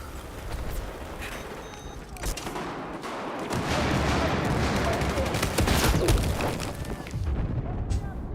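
Online Battlefield 4 match with dense, continuous game gunfire and explosions that swell in the middle, as a player tries out the M16 rifle amid the chaotic battle din.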